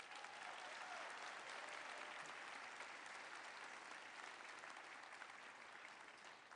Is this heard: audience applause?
yes